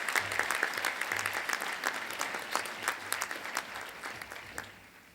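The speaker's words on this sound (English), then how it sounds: "Can we give Dr. Paul another round of applause" A seminar audience at a disaster preparedness event applauds a speaker after his talk, moderate clapping with distinct individual claps, gradually tapering off.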